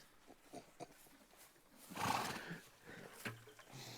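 A horse gives one loud, rough neigh in the middle of the clip, rising above a scuffle of movement and faint background noise, with no one speaking.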